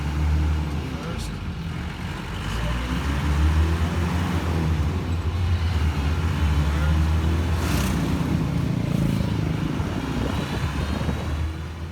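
Mitsubishi Jeep in four-wheel drive low ratio, its steady low engine drone and drivetrain rumble continuing throughout at a constant close level, with no talk over it.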